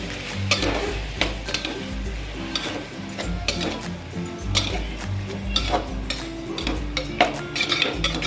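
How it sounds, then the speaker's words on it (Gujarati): Tawa pulav masala with lemon juice being stirred in a pan, giving steady scraping and clinking of the utensil against the pan over a soft sizzle. The stirring repeats in close, rhythmic strokes, with no voices. "લીંબુનો રસ લીધો છે તે એડ કરશું બરાબર મિક્સ કરી નાખું"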